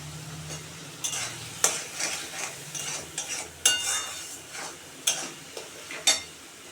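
Spice paste with tomatoes, salt and Kashmiri chili is stirred and fried in a pan for a fish curry, with a soft steady sizzle broken by several sharp scraping spoon strokes, close and alone.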